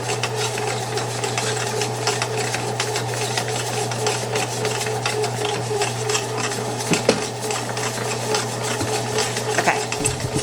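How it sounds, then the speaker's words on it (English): Pizza dough being mixed in a bowl while the sides are scraped down, heard as a steady motor-like whir with scattered scraping and clinking throughout, and no voices. "I like to scrape down the sides to make sure it all gets incorporated"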